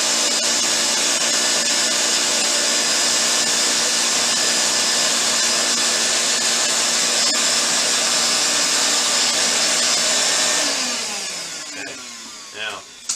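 A loud, steady shop vac roars up close while vacuuming insect exoskeletons out of bins, a continuous whine and rush that winds down near the end.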